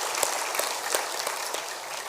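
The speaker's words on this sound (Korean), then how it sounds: "하나님께 영광의 박수를 드리겠습니다" Church congregation clapping together during a Sunday worship service, a steady dense patter of many hands held at an even level for about two seconds, with no voices over it.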